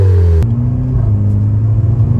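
A VW Golf 6 GTI Edition 35 with Stage 1 tuning, Maxton parts and a Remus exhaust: the engine drops from a rev into a deep, steady, loud rumble close by, with no voices.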